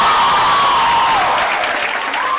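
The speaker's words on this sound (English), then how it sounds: "you have to give him a big round of applause." Applause from a college audience at Sophia College, loud and sustained dense clapping filling the hall, with a voice carrying faintly over it.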